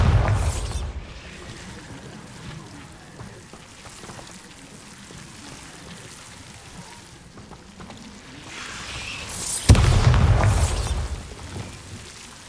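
A Bombarda blasting spell explodes in Hogwarts Legacy: two heavy booming bursts, one at the very start and a louder one near the end, over a soft, rain-like ambient hiss.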